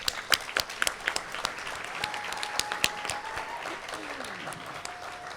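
Applause rings out at an Eagle Scout court of honor, with scattered sharp claps over a moderate crowd wash and a faint steady tone running beneath.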